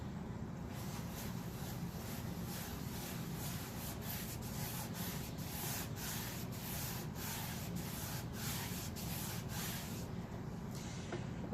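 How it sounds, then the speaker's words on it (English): Beeswax being rubbed onto a wooden piece with a scrap of old t-shirt, a soft, steady, rhythmic swishing that repeats quickly and evenly throughout at low level. "putting on a nice thin, it doesn't have to be thick, just a nice thin layer of wax"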